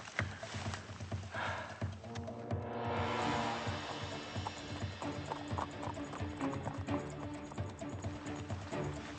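Horse hooves clip-clop steadily on the ground, a busy rhythmic patter with a brief whinny-like swell, fairly faint and outdoors.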